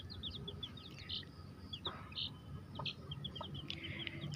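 A Rhode Island Red hen with her newly hatched chicks, high peeping chirps from the chicks scattered throughout, soft low clucks underneath, close and fairly quiet with a steady background hum.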